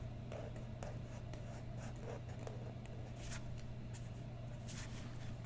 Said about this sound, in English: we'll just draw a cloud with some sun